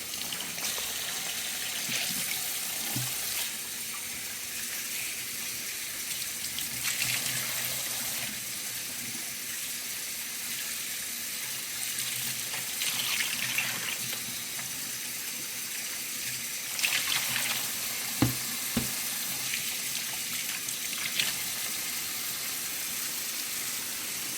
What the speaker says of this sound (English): We're going to go ahead and wash them off really quickly.